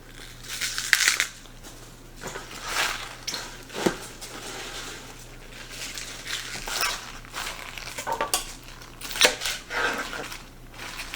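A knife chops fresh garden kale into short sections on a board, giving irregular crisp crunching cuts in bursts, close and fairly soft, with background hum and no talking.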